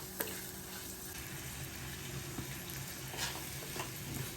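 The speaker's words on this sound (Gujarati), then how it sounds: "2 મિનિટ વેજીટેબલ સાતળો" Mixed vegetables, including frozen green peas, sauté in oil for upma, producing a quiet, continuous sizzle with soft stirring scrapes and a few light knocks.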